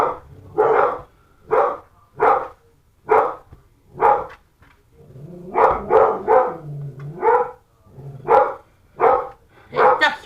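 Several dogs bark repeatedly in a home kitchen, a steady run of sharp, loud barks with short gaps, some overlapping, close by and with no talking.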